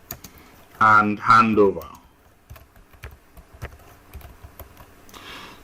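Quick, light keystrokes on a computer keyboard tap out a scattered rhythm of close clicks, with a brief burst of speech near the start.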